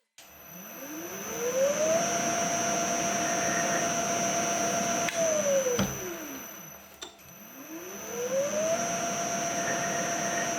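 A worn two-flute high-speed steel end mill, freehand ground, cuts a steel dovetail, giving a steady close machining whine under motor hum with rising and falling pitch sweeps as the cut engages and releases.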